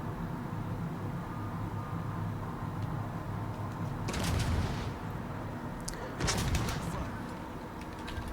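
Naval guns in World of Warships boom in two heavy bursts over a steady low rumble of ship engines and ambient battle noise, with a faint voice talking now and then.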